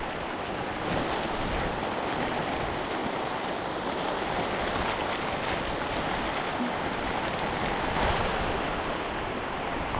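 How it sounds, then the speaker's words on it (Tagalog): Steady rain pours down outdoors during a harvest, a dense, even hiss that holds at the same loud level for the whole stretch, with no voices over it. "Ang ulan."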